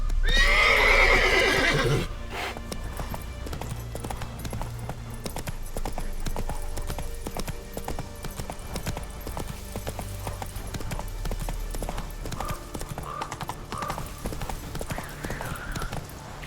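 Hooves of a horse galloping in The Witcher 3 video game, a steady close clip-clop rhythm after a short loud whinny at the start, with game ambience underneath.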